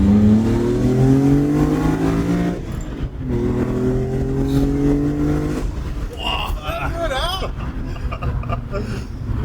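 BMW E46 M3 engine revving hard, loud rising howls climbing through the rev range in repeated pulls, with a brief dip between runs and a voice speaking over the later part.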